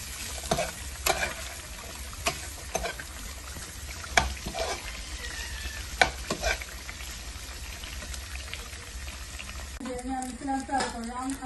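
Chickpeas (chana) frying in a pan while being stirred, a steady close sizzle with scattered clinks and scrapes, a voice briefly speaking near the end.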